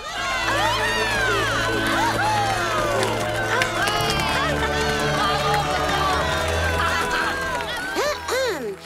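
A crowd of cartoon ponies cheers and shouts in excitement at the opening of a summer solstice theatre festival, with lively overlapping voices and scattered clapping filling the whole stretch, loud and close.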